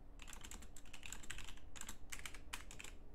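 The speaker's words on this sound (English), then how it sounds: "if I just go ahead and update it here with a couple clicks of the keys" Quick bursts of clicking keystrokes on a computer keyboard, close and fairly quiet, typed in short uneven runs with brief pauses and no voices.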